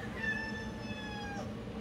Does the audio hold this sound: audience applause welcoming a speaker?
no